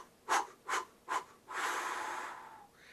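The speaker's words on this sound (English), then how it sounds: "as you take a deep breath, blow it out 5 pulses" Three short, sharp breath pulses are blown out in a steady rhythm, followed by one longer continuous exhale during a breathing exercise. The sound is close and fairly quiet, with no speech.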